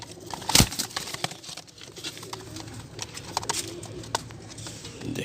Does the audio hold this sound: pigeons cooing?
yes